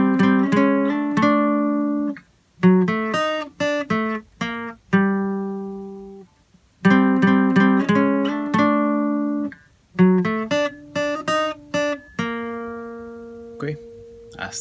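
Salsa song melody phrase played note by note on guitar, clear plucked tones in short rhythmic runs separated by brief pauses, close and alone with no talking.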